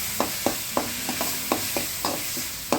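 Fried onions with ginger garlic paste being stirred in a pan for chicken gravy, a steady sizzle broken by about nine sharp scraping strokes of the spoon at an irregular pace, close and clear with no talking.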